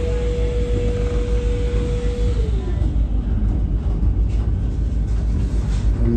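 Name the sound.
local train passing during Vande Bharat express crossing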